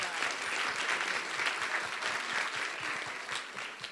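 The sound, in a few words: audience applause at a conference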